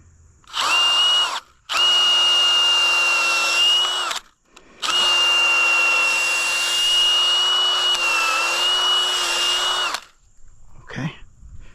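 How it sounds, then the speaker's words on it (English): A power drill runs through material while a puppy pen is being built. It comes in three sustained, steady, whining bursts of a few seconds each, with short pauses between them, and is loud and close with no talking. "I'll get my drill."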